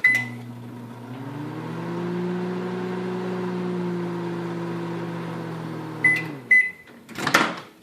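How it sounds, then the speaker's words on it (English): A microwave oven set to high runs with a steady, close hum for about five seconds, then stops. Clicks and a door or cupboard knock follow. "I'm going to put it in the microwave. I have this set to high."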